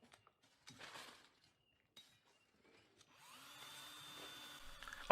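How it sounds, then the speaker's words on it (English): A drill sound effect from a Doctor Who audio drama: a faint whirring buzz that builds and holds over the last couple of seconds, after scattered quiet clicks and brief rustles. "I wish I could get a better drill sound effect"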